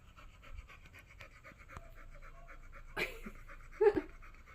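A dog pants in quick, rhythmic breaths close by, with faint background sounds and a couple of louder bumps near the end.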